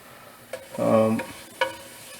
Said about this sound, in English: So once the cumin seed starts to cook